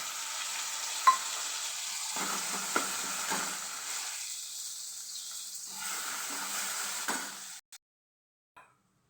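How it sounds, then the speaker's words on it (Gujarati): Onions sautéing in a pan until light brown for aloo paratha filling, a steady soft sizzle with occasional stirring clinks, fading out near the end into quiet. "ડુંગળીને લાઇટ બ્રાઉન સાતળી લેશું"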